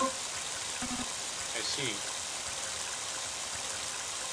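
Heavy rain falls in the video game Mother 3, a steady, dense hiss that fills the whole stretch at even loudness, with a voice briefly speaking over it near the start.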